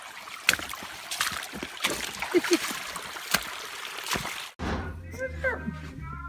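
A river flows beside the Appalachian Trail, a steady rushing wash with scattered splashes and knocks, then cutting abruptly to a quieter scene where a voice talks.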